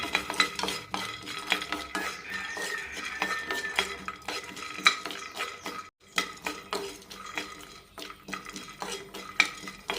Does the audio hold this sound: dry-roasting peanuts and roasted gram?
yes